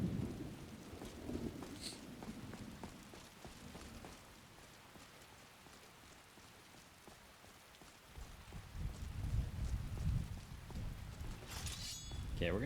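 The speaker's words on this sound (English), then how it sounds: "So I'm glad we got to see the weather, like a thunderstorm." Rain and thunder from a thunderstorm in the video game Nordic Souls, a soft steady rain wash with rumbling swells of thunder rising at the start and again toward the end, fairly quiet overall.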